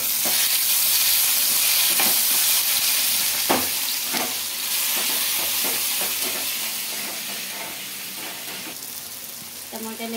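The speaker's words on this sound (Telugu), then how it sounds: "చింతపండు, ఎల్లిపాయలు, ఇంకా అలాగే టమాటా ముక్కలు, ఇవన్నీ వేసి బాగా ఫ్రై చేసుకోవాలి" Dried red chillies, tamarind, garlic and tomato pieces fry in a pan with a steady, loud sizzle and hiss, broken by repeated clinks and scrapes of stirring throughout.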